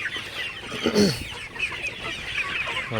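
A flock of Sonali super hybrid chickens clucking and murmuring continuously up close while drinking water in the early morning, several birds overlapping, with a louder squawk near the middle.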